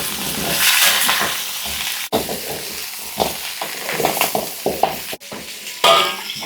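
Pork bones, boiled beforehand, fry with garlic in a hot pan. A loud, close sizzle runs under uneven spatula scrapes and clatters, broken by two brief sharp knocks, with no voices.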